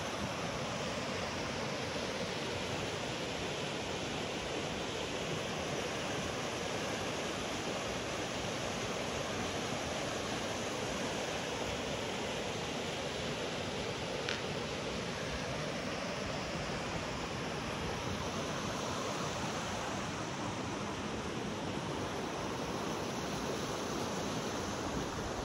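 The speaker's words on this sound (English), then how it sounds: "Hear the creek." Fall Creek near Santa Cruz runs as a steady, even rush of flowing water, a soft continuous hiss with no other sounds standing out.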